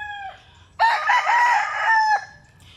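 A rooster crows one loud, clear, drawn-out call close by on a farm, with softer clucking from chickens before and after it.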